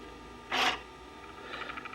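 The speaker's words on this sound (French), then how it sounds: "ce que vous venez d'entendre, c'est les curseurs qui se mettent en place" Motorized faders on a mixing control surface slide into position: a brief raspy whir, then a faint run of soft rapid ticks as they settle, over low room hum.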